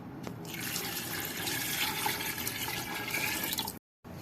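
Water pours steadily into a pressure cooker of mutton pulao with spices for a few seconds, a continuous splashing rush that cuts off abruptly near the end.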